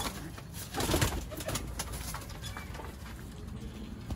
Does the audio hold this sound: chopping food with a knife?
no